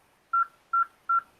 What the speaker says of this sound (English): Sorry for the beeping. I can't turn it off.